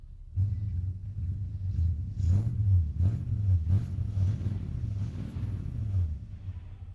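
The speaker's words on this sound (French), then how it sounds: "Je vais juste accélérer un tout petit peu comme ça." A deep V8 engine idles with a lumpy burble, then revs several times in short, throaty bursts nearby.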